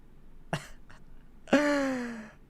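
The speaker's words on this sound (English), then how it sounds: "Oh, I'm coughing, bro." A person gives a short throat-clearing cough, then a longer, louder hacking cough with a strained, drawn-out voiced tail, close to the microphone in a quiet room.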